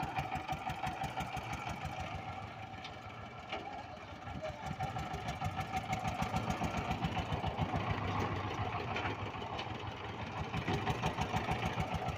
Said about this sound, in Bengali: এটা চানফা ডিজেল ইঞ্জিন, 22 হর্স পাওয়ারের ডিজেল ইঞ্জিন আছে